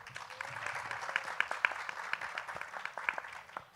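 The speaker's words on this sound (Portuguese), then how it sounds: "Uma salva de palmas, por favor." Modest audience applause at a literary event with authors and a journalist, scattered, fairly quiet clapping with irregular sharp claps over a few seconds from a small crowd.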